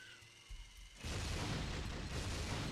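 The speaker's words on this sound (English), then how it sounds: "Forgot how cool the explosion effects were." A tree blows up in the Twisted Metal video game, a sudden loud booming burst after a quiet second of mechanical game hum, followed by a sustained rumbling roar that fills the rest of the moment.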